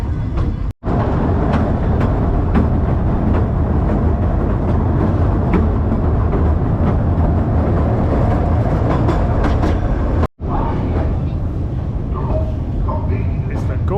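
A fast train at roughly 125 mph rushes past a station platform, a loud continuous roar with clattering rail noise that holds steady for many seconds, broken only by brief gaps.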